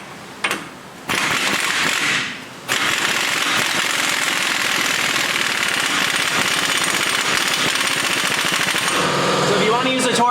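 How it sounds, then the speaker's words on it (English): An impact gun tightens a 36mm axle nut on a 1997-2004 Ford F150 or Expedition: a brief burst, a pause, then a long, loud, continuous hammering rattle up close that stops abruptly near the end. "the impact gun's pretty good"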